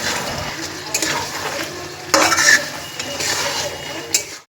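Chicken curry spice paste being stirred and fried in a pan, with steady sizzling under repeated scraping and clinking of a spoon against the pot, close and fairly loud throughout.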